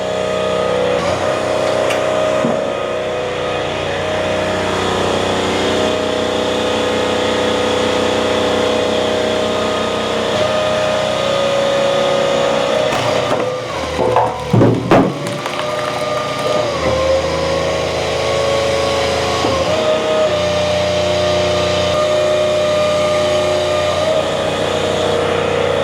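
A 42-ton Wolfe Ridge X log splitter drives hardwood rounds through 16-way and 8-way wedges, its engine droning steadily and loud throughout, with a brief burst of cracking and strain near the middle as the wood gives way.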